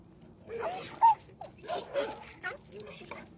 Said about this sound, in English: There's another dog right there.